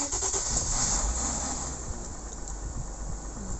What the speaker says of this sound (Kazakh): Тек мотордың ғана дауысын естіртейін.